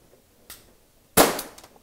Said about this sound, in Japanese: それでは実際に射撃してみましょう。